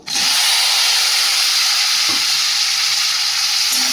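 Fried shrimp and potato, seasoned with Kashmiri chili powder, sizzle loudly in a pan, a dense unbroken frying hiss close up with a brief stir partway through and no voices.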